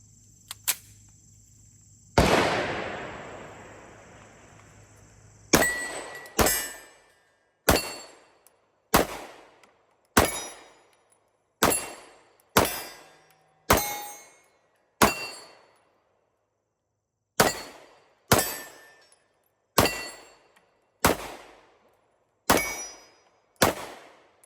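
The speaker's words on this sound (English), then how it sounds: "we're just gonna transition over and shoot different targets" Gunshots ringing off steel shooting targets, a loud blast early on followed by a steady series of sharp single shots, each with a bright metallic ping and short ring, spaced about a second apart.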